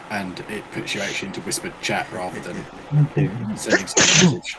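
A single sharp sneeze bursts out near the end, loud and close, right after a stretch of steady talk.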